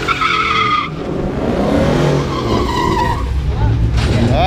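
Tires squeal and skid loudly from a racing Ford at a crowded Ford car event, with engines roaring through sustained screeching as people talk over the noise.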